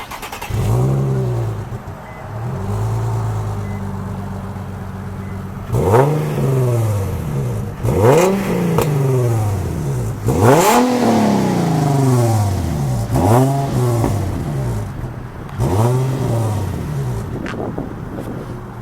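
Nissan 350Z with a muffler delete revving hard, loud close-up engine roar that climbs and falls in repeated sweeping blips, several quick throttle pulls in a row after a sustained rev, with no talking.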